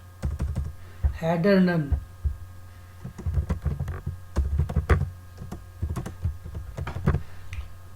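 Keystrokes on a computer keyboard during code editing, a quick run of close, crisp taps with brief pauses, while someone talks over them.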